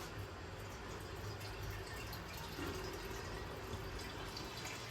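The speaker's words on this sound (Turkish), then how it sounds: "Şu sıcak suyu şöyle limon tuzlu sıcak suyu biraz şöyle içlerine döküp içindeki yağları yumuşatacağım" Hot lemon-and-salt water poured into greasy pots in a kitchen, a steady close splashing and trickling wash that runs evenly throughout with no talk.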